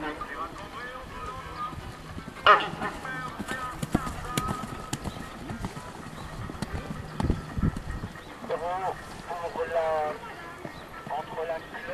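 Pony hooves clip-clop across a show jumping arena during a club competition, with a steady rhythmic beat at middle distance while an announcer speaks over a public address and crowd noise murmurs.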